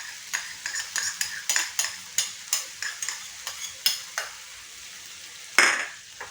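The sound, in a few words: stirring garlic paste into frying onions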